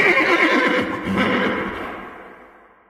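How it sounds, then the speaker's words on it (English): A horse at the races gives a loud, shrill whinny over the clatter of hooves, fairly close, with the sound fading away toward the end. "2 horses thundered past her, but as another, the King's horse, galloped round the bend"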